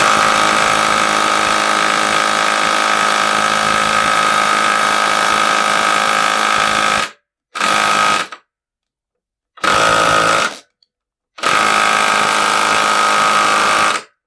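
A Parkside cordless angle impact wrench (cordless ratchet) runs loudly with a steady motor whine for about seven seconds, then cuts in and out in three shorter bursts separated by silence.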